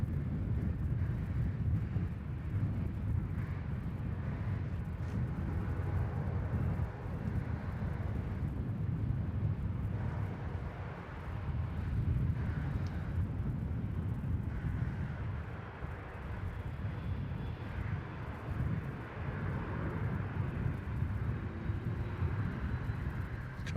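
A Velocity airliner takes off from runway 34 at Melbourne Airport, giving a steady, distant jet roar that rumbles evenly throughout, mixed with wind noise, with no voices over it.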